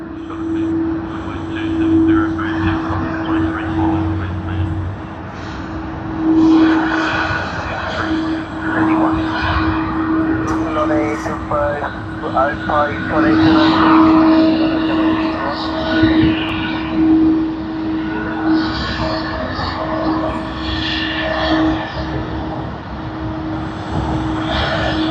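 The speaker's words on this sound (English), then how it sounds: "OZ601, Seoul Incheon to Sydney service on the Boeing 777-200ER of Asiana Airlines." An Asiana Airlines Boeing 777-200ER jet runs at Sydney Airport, a rumbling engine roar with a steady tonal hum that swells and fades, while a voice talks over it intermittently.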